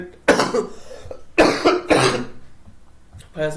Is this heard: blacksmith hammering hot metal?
no